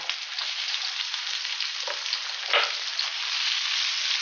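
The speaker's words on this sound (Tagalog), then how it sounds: "Next naman po ang ating onion. At isasabay na rin po ating luya." Chopped onion and ginger sizzle and fry in a hot pan, a constant close crackle with a couple of brief louder bursts as the pieces are stirred, and no voice over it.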